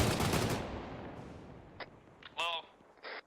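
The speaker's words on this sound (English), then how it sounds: "Put a burst into it, anyway," A machine gun burst fires in a military video game, opening with a loud roar that rings out and decays, followed by a few short, quieter bursts and a brief voice.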